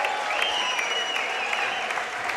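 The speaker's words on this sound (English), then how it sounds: "To an ovation from the crowd that now turns into a standing one" Crowd in the Cardinal Arena rising to a standing ovation for departing starters at a Eudora Cardinals versus Louisburg Wildcats girls basketball sub-state game, a steady wash of applause with faint whistles and cheers throughout.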